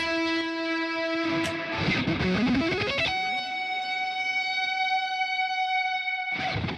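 Electric guitar notes ring out with a long reverb tail, a strummed burst sliding in pitch, then a sustained note washing away before another strum.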